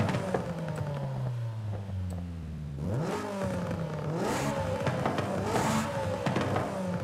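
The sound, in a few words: stock exhaust of car in Forza Horizon 5 video game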